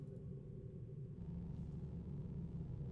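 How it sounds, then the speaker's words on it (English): Distant explosions in the video game Baldur's Gate II: Shadows of Amn, a continuous low, muffled rumble rolling steadily through the whole stretch without distinct blasts. "From the distant explosions you can still hear, it seems that as if whatever battle killed these men still rages."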